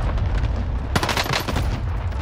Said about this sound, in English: Those bastards are shooting at me!